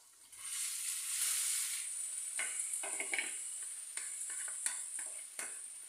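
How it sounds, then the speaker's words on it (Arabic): Vegetables sizzle and hiss in melted butter in a pan for a vegetable and egg tortilla, with occasional stirring scrapes and light clinks over the steady crackle. "الزبده هي هنايا دابت، انا غادي نزيد ديك الخضره"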